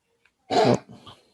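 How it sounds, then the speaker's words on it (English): A dog gives one short, harsh hacking cough, followed by a couple of fainter wheezy gasps, close by in an otherwise quiet room. "That's my dog. She's coughing."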